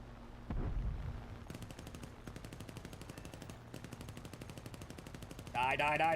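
Rapid, evenly spaced bursts of .50 calibre machine guns fire from an aircraft in the combat game War Thunder, heard over a low engine drone, and someone shouts briefly near the end.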